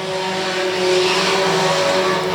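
Junior sedan race cars in a feature race charge down the main straight, a loud sustained engine drone with steady tonal whine and rushing road noise close by.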